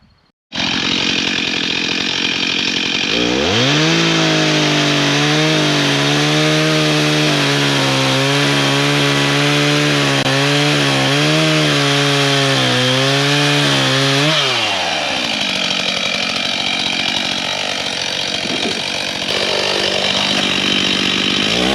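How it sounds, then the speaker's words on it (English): A chainsaw revs up and bites steadily into wood while building a small tool shed, its engine note loud and close, wavering as it cuts, then dropping to a rougher idle near the end. "gotta get the chainsaw"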